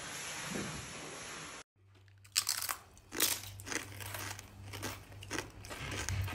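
Crisp, crunchy aloo fry with charcoal-flavored mince is bitten and chewed up close, a short burst of loud crunches followed by steady, irregular chewing crackles, with no talking.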